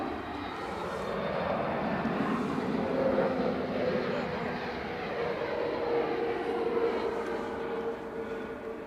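An Airbus A321neo jet airliner on its takeoff roll gives off a continuous, moderately loud engine rumble that swells slightly and then eases, heard from a distance with no speech.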